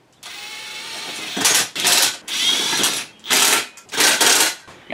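Ratchet wrench working bolts while removing the old seats from a Polaris RZR Pro XP, loud close bursts of rapid clicking in five quick back-and-forth runs with short pauses between.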